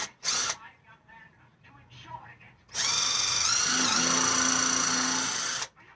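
Power drill countersinking holes in a wooden planter box for herbs, a steady high whine running for about three seconds near the mic, preceded by a brief burst and quiet talking.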